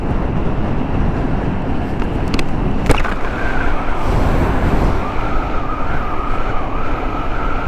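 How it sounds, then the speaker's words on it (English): Steady, loud wind roar buffets a rider on a Yamaha Neos scooter travelling at high speed, a dense broadband rush that barely changes, with a brief sharp tick near the middle. "all of this wind noise, because of this high speed."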